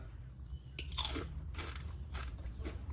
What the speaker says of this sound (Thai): กากหมูกับกรอบนะครับเนี่ยมาเทสความกรอบกัน